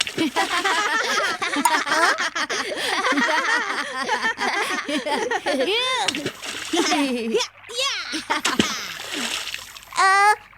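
Stones thrown into a river splash again and again while children chatter and call out over the splashing.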